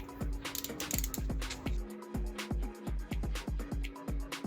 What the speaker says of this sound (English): and torque the bolts to spec.